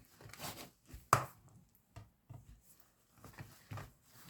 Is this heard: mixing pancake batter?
yes